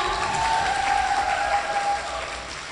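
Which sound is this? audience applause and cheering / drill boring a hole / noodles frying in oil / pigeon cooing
audience applause and cheering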